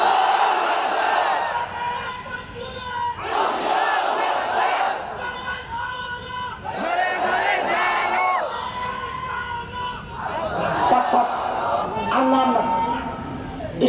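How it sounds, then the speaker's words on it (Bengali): A large gathering at an Islamic address shouts the takbir together in loud, surging waves of massed voices, with a speaker's voice over and between the chants. "একটা তাকবীর দাও তো জোরে সরে, লিল্লাহি তাকবীর"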